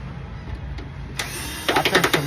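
Screws being removed from an air conditioner that is being scrapped: a low mechanical whir that turns into a burst of rapid, close ratcheting pulses near the end.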